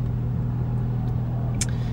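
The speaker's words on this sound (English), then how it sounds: "really let you hear what this exhaust sounds like" A Porsche 911 fitted with an IDP plenum idles with a steady, loud low exhaust rumble and a faint intake hiss, a brief higher whoosh near the end and no talk.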